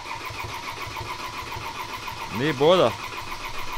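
A 2015 Ford Transit 2.2 TDCi diesel van with a fault is cranked briefly under a steady idle-like engine hum, a short rising whine late on, while someone speaks nearby.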